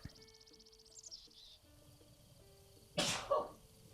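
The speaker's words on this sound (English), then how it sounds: "Badly timed sneeze there." A single sharp sneeze bursts out near the end, following a quiet stretch of faint chirps and tones from the game Breath of the Wild in the background.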